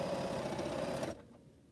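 Sewing machine stitching a quilt pinwheel block, a dense rapid whirring run that stops abruptly after about a second, leaving quiet room tone.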